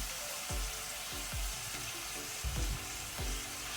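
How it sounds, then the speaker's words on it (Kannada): Chopped onions and dill leaves frying in a pan on medium-high flame, a steady sizzle with several soft thumps and scrapes of stirring spaced through it. "ಇದನ್ನು ಸಹ ನಾವು ನೀರುಳ್ಳಿ ಜೊತೆ ಒಳ್ಳೆ ರೀತಿ ಫ್ರೈ ಮಾಡುವ."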